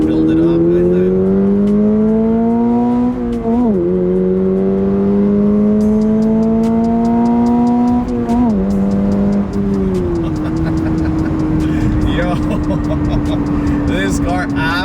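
A 2022 Subaru BRZ with a 2.4-liter engine accelerates hard in second gear onto a highway, its engine note rising steadily through repeated climbs with brief dips at shifts, loud from inside the cabin, with someone talking over it.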